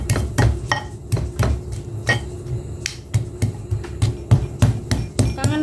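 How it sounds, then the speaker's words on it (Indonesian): A stone pestle pounds and grinds spices in a stone mortar (ulekan), sharp knocks in an irregular rhythm, close and fairly loud, with no talking. "mau ngulek bumbunya dulu"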